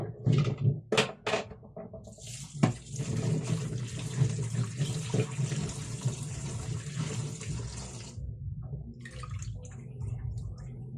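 Squash being washed under a running tap in a sink, with water splashing and pouring steadily for several seconds, close up and fairly loud, and a few clunks of handling at the start.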